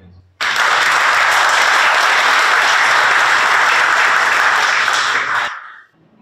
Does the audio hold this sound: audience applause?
yes